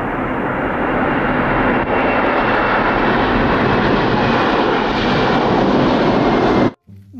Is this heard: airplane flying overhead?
yes